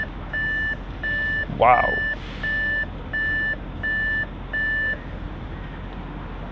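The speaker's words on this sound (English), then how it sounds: "Yeah, it's still beeping" An Audi RS7 gives out steady electronic beeping, seven evenly spaced tones of equal length in a regular rhythm, close and clear, with a brief voice exclaiming between them.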